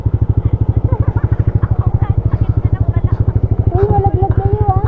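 Yamaha Aerox motor scooter ridden two-up on a 500 km endurance challenge, a close, loud engine throbbing in a fast even pulse throughout, with riders talking over it.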